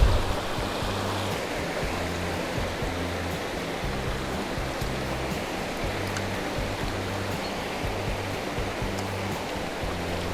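The Mörrum River flows in a steady, dense rush of water, continuous and fairly loud, with a low rumbling undertone and no voices.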